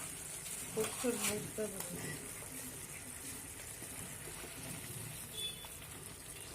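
Peshwari spicy chicken with chopped coriander and ground black pepper sizzles softly while being sautéed in a pan, a steady low frying hiss with a few brief stirring knocks early on, and a voice talks over it.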